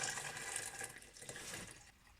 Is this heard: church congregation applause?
no